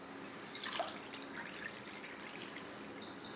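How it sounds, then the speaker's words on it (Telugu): Water is poured into a pot to make sorghum dough (jonna muddha), a soft, close trickle and splash with light drips, faint and continuous. "ఇప్పుడు నీళ్ళు వేసుకొని చూపిస్తా."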